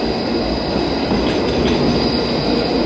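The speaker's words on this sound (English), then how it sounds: "Oh my God, here comes the tram." A tram rumbles steadily past close by, a continuous loud rolling roar with a faint high metallic whine over it and no voices.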